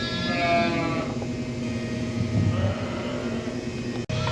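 Orphan lambs in a lambing barn pen, heard as a dense, steady chorus of close, overlapping bleats with faint engine-like rumble in the background and no talk.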